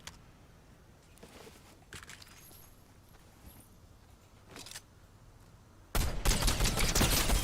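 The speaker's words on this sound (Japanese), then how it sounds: "今の銃声で最後かな。" Fortnite gunfire: a few faint, scattered shots crack in the distance, then a loud, sustained burst of rapid fire erupts near the end.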